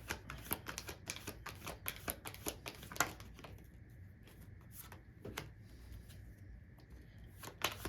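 Tarot cards shuffled and drawn during a reading, a quick run of crisp riffling flicks and slaps that thins out into a few separate soft card snaps over a quiet background hiss.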